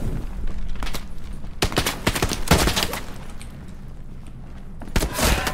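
Gunfire in the World War II shooter Hell Let Loose on Omaha Beach: sharp, close shots in uneven bursts, with a few louder cracks and thuds over a constant battlefield rumble.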